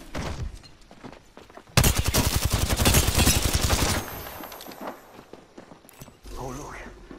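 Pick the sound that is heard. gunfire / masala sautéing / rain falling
gunfire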